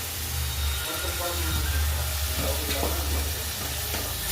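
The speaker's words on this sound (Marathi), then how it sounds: "मिक्स करून घेऊ छान असं मस्त कलर आला" Curd being stirred into a potato curry in a pan, a soft continuous sizzle with scraping stirring strokes over a low steady hum throughout.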